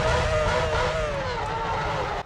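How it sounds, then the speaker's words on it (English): V8 Formula 1 race car engines in the F1 2006 video game scream at high revs, a steady, loud, continuous whine with the pitch gliding slightly downward, heard alone. "I really do rate the V8 sounds."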